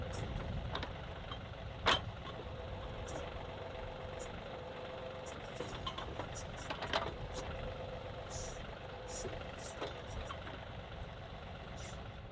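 A tractor engine idles in a steady, low, even rumble throughout, moderately close, with occasional small clicks and knocks over the drone.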